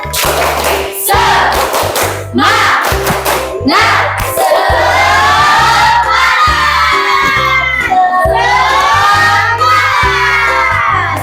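Schoolchildren in an Indonesian classroom perform a rhythmic spirit clap, sharp claps landing in a steady beat while they chant and shout together loudly and close by.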